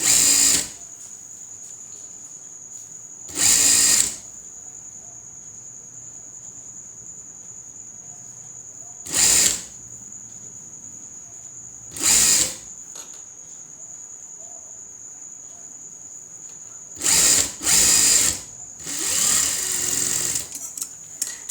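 A sewing machine stitches the side slit of a chudidar in several short bursts of rapid whirring, separated by pauses, while a steady high insect-like whine continues underneath the whole time.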